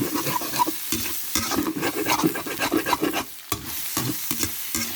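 Ginger and carrot stir-fried in a pan, with a steady close sizzle and a repeated scraping of the spatula as the pieces are tossed and turned throughout.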